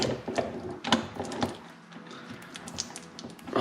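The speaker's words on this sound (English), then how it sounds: "very satisfying watching the grease get in the gears like that" Transmission gears of a John Deere R92 mower turn and click with grease packed in, giving irregular close mechanical ratcheting clicks and soft clunks at a modest level.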